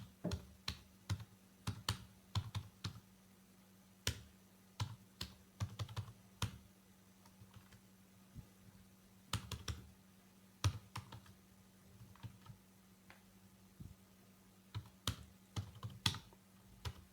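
Plastic keys of a computer keyboard clatter as HTML code is typed, irregular quick bursts of keystrokes with short pauses, fairly quiet and close, with no talking.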